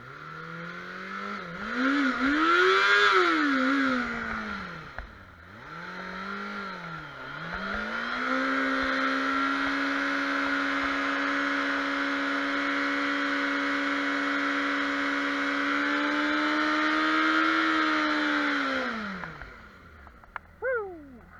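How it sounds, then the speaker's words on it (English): A street motorcycle revs for a burnout, its pitch rising and falling twice before holding a high, steady whine for about twelve seconds. The engine then cuts back, with a few brief pops at the end. "So that's how I do my little burnout."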